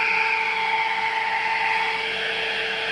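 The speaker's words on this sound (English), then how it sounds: "now the compressor tried to start again" A 12V car air-conditioning compressor, under repair, whines steadily with a sustained tonal hum and high-pitched drone, close and fairly loud, no voices.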